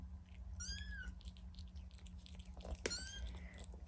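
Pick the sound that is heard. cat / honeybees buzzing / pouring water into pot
cat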